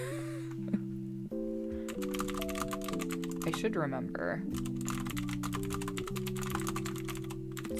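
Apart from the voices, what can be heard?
typing on a mechanical keyboard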